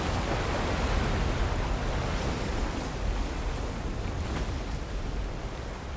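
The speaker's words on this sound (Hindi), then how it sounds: "पानी के इंटेंस प्रेशर ने जो वैक्यूम क्रिएट किया है उससे ये पुरानी पिट खुल गई है।" Water gushes under heavy pressure from an old pit that has burst open, a loud, dense, continuous roar like rushing surf with no speech over it.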